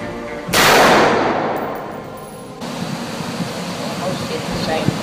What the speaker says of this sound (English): I'll shoot the same hole again.